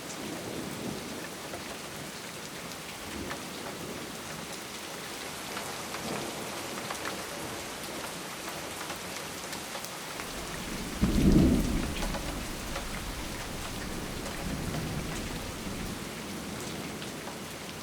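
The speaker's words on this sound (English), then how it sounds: "for 2 straight days we were hit with heavy downpours" Heavy rain pours steadily in a continuous hiss outdoors near swallow nest boxes, with a low rumble of thunder swelling briefly midway.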